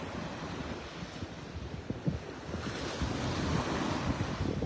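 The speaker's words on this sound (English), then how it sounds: "A few more waves than yesterday morning." Ocean surf breaks along the beach at Delnor-Wiggins Pass State Park in North Naples, Florida, on churned-up water after a cold front, a steady wash of waves mixed with gusting wind buffeting the microphone, with no voices.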